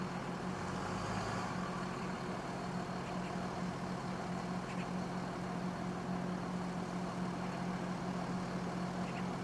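Trucks idle near the SpaceX Starship site at Boca Chica after Hurricane Hanna, a steady low engine rumble holding at moderate distance throughout, with no voices.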